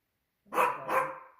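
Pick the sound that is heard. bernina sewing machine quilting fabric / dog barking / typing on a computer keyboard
dog barking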